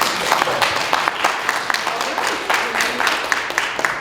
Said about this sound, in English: let's give a hand of applause to our guest speaker